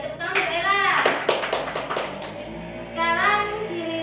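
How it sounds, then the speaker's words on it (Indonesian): A class claps for a classmate during a microteaching lesson, scattered hand claps mixed with children's and adults' voices talking and calling out over them. "Tepuk tangan Mbak Ella."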